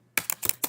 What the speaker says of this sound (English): I don't even know what I'm typing.